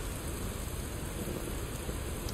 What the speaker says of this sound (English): this rain is something else, isn't it?